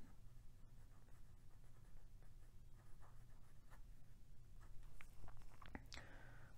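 Medium-nib Pilot Custom 74 fountain pen scratching softly across paper in short, irregular strokes, faint and close over a low steady background hum.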